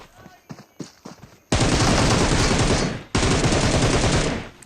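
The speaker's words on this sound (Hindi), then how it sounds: "पहले तो मुझे पीछे से भी गोलियाँ पड़ती है" A battle royale game firefight: two long, loud bursts of rapid automatic gunfire follow a few short sparse sounds.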